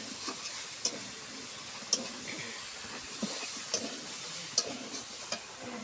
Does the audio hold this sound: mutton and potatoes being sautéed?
yes